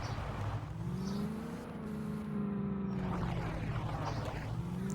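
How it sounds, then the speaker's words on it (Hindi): A Mahindra Thar SUV drives along a mountain road, its engine a steady, close drone that rises and falls slightly in pitch as it moves, with no talk over it. "थार पहाड़ों के अंदर किस तरह से चल रही है गाइस, चलाने में गाइस बहुत मज़ा आ रहा है"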